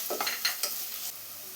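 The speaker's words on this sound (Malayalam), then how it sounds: "ഇതിലോട്ട് 2 സവാള ചോപ്പ് ചെയ്ത് വെച്ച് ചേർത്ത് കൊടുക്കാം." Chopped onions hit hot oil in a pan for papad samosa filling, a short burst of sizzling and stirring that quickly settles into a softer steady hiss.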